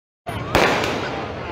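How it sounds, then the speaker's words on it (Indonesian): Fireworks set off by residents on a sidewalk in Margonda, Depok, to celebrate New Year 2023, with a sudden loud crackling burst, then a second sharper bang and a fading crackle. "Warga menyalakan kembang api untuk merayakan tahun baru 2023."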